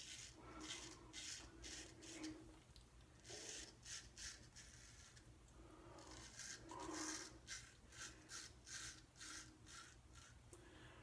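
A freshly sharpened Charnley straight razor shaves whiskers in short, rhythmic scraping strokes, close and faint, each stroke a brief rasping burst separated by pauses.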